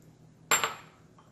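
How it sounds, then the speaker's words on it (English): A spatula scoops a kaolin clay soap mixture from a shallow dish, giving a single sharp clink and scrape against the dish in otherwise quiet surroundings. "I'm just kind of scooping it out now"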